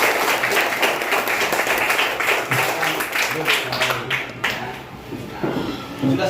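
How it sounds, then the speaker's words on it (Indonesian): Schoolchildren in an Indonesian classroom clap together in loose rhythmic bursts, fairly close, with voices mingling among the claps. "tepuk tangan untuk kita semua"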